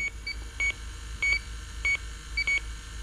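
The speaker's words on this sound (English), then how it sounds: "That's what a leak detector is supposed to do." An electronic refrigerant leak detector emits short, evenly spaced high beeps, about five in three seconds, close and clear over a steady low hum.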